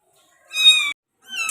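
A Persian kitten about 25 days old, one of a small litter, gives one clear meow and then starts a second, close and fairly loud, with a short silence between them.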